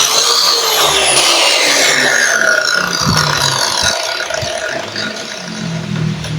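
A Lotus track saw motor gives off a loud, high electric whine that glides steadily downward in pitch, with rattling and mechanical noise underneath close by.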